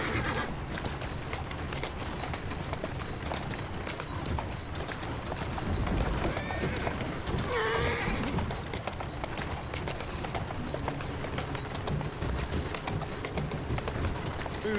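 A horse gallops in the video game Assassin's Creed Syndicate, its hooves drumming in a rapid, steady rhythm over background game sounds, with a brief neigh midway.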